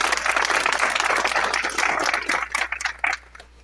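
A crowd claps at an Ambazonian Independence Day celebration on 1 October, dense and loud steady applause that thins into scattered individual claps near the end.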